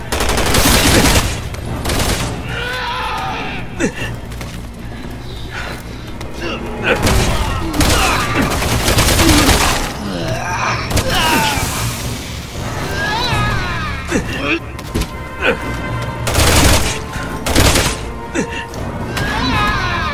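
Loud Resident Evil 6 gunfire, with repeated heavy shots and booming thuds in irregular bursts, mixed with game effects and voices speaking throughout.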